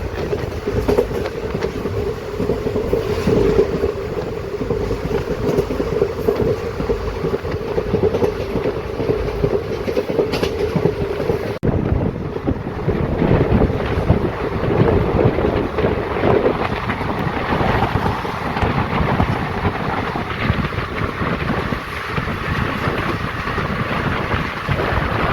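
A Madurai to Rameshwaram passenger train running at speed gives a loud, steady rumble with continuous wheel and carriage noise and rushing wind buffeting, with no voices.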